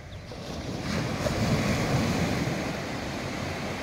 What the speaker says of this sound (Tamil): ஸோ இப்போ அப்படியே பாருங்கள் வியூ ஆஃப் த ஸ்னூப்பி ஐலாண்ட். ஃபுல்லாக பீச், போட்.